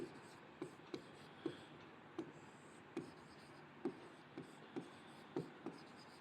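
Chalk or marker tapping and scratching on a board during a classroom lesson, a series of sharp, regular strokes over a quiet background, close and faint.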